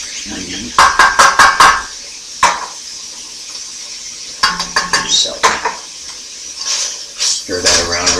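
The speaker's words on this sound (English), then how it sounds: "Stir that around really good here." Onion and celery stirred in a pan for stuffed French bread, with bursts of utensil scraping and clinking against the cookware in two clusters separated by a quiet gap, over a faint sizzle.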